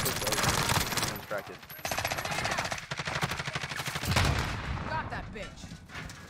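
Rapid automatic gunfire in Call of Duty Warzone, including a Cold War AUG, crackles in loud close bursts with brief pauses, repeated shots stacking into sustained volleys amid game noise, with talk mixed in.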